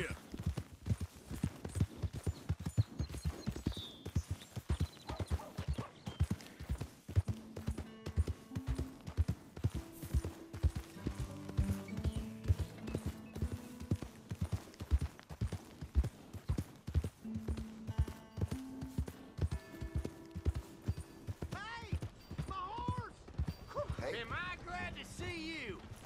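Horse hooves galloping in the Red Dead Redemption 2 video game, a fast, steady clip-clop rhythm that runs throughout beneath game music.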